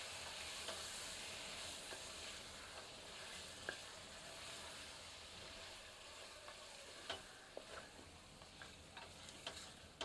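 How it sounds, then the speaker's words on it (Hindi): Marinated meat for Kolhapuri tambda rassa is stirred in a pan over high heat. A steady, moderately loud sizzle runs throughout, broken by occasional scraping clicks from the stirring. "इसे अच्छे से मिलाते हैं और 1 मिनट तेज आंच पर भूनते हैं।"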